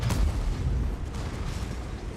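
A T-34-3 tank cannon fires in World of Tanks, a heavy low boom opening the clip and then sustained rumbling battle noise.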